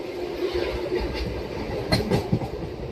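A MEMU passenger train runs along the rails between Nellore and Vijayawada, a steady rolling rumble with a few sharper clanks and knocks near the end, heard up close from on board with no talk.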